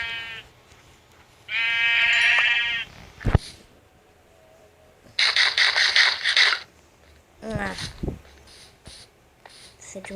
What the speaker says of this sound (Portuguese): Acho que eu vou ter que spawnar no criativo ovelhas